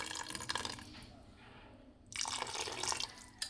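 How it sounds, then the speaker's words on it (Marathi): Hot water poured from a vessel into a pot while cooking veg biryani in a village kitchen, a faint close splashing pour that swells louder in the second half, no talk. "हे बघा, गरम पाणी ओतते मी."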